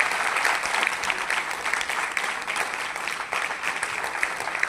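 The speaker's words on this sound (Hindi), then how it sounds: "जो हमारे पीछे खड़े सारे लोग हैं इनके लिए जोरदार ताली" Loud, sustained applause from a theatre audience after a stage play performance at an academy in Lucknow, a dense continuous roar of clapping filling the hall without a break.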